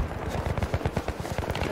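Rapid automatic gunfire from the video game Battlefield 3 rattles in a dense, steady burst of shots, loud and continuous throughout.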